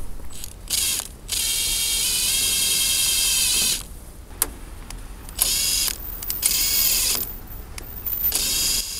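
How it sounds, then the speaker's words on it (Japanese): Impact driver whirring in bursts as it drives long 4×55 stainless screws into a PVC bamboo fence board, several high-pitched runs separated by short pauses, close by with no talk. "4×55 のステンレスビスで留めていきます。"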